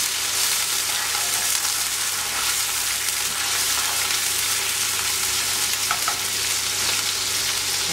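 Half an onion sizzles in melted margarine in a pan for a fish tajine, a dense, steady hiss with faint crackles throughout and no voices.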